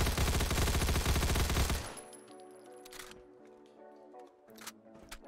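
Rapid automatic gunfire from a modded rifle with a transparent magazine in Fallout 4, a fast loud burst of shots for about two seconds, then mechanical clicks and rattles from the weapon.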